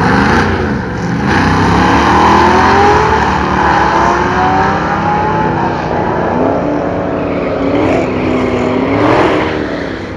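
Rear-wheel-drive drag race cars at Rippy National Trails Drags, their loud engines revving and rising in pitch as they launch and pull away down the strip, heard nearby with overlapping engine sweeps.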